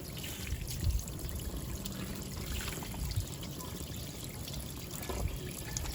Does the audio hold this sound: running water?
yes